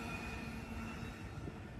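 Southbound Amtrak Pacific Surfliner passenger train 774 passes by at Capistrano Beach, heading for San Diego. A steady, loud rumble of wheels on rail carries on without a break and with no voices.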